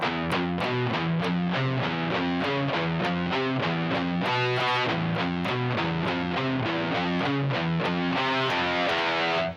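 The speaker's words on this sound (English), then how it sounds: "lots of alternate pick pedal tones and fast chords" A distorted electric guitar plays a riff of alternate-picked pedal tones and fast chords, loud and rhythmic with evenly repeating picked notes throughout, no voices.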